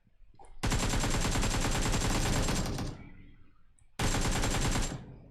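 Automatic gunfire in PUBG Mobile from an AMR rifle: two loud, close bursts of rapid shots, the first lasting about two seconds and the second shorter, with no speech over them.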